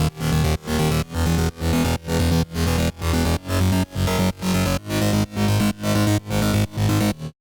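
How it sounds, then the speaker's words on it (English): A trance-based mid-bass synth pulses in a steady, rapid rhythm of about a dozen evenly spaced chopped stabs, loud and upfront, with no voices. "Here's the mid-bass I built. It actually is a trance-based sound"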